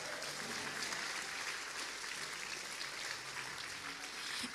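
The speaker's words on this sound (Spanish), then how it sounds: "Dele un fuerte aplauso a Jesús" A church congregation claps at a Spanish-language service, a faint, steady wash of many hands heard from a distance, continuing evenly for several seconds.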